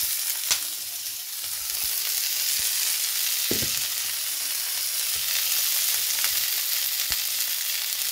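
Eggplant and chicken fry in hot oil, giving a steady, close sizzle with occasional sharp pops and clicks and a brief stirring scrape, and no talk over it.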